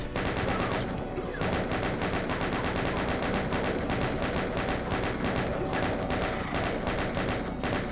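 Rocket launcher fire in a Doom map played on Hard, a dense relentless barrage of loud blasts and explosions packed in rapid succession with almost no gaps, continuous and close.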